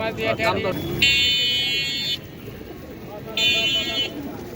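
Giribaz pigeons at Taherpur market coo and call amid crowd chatter, with two long buzzing electronic tones cutting through and people talking throughout.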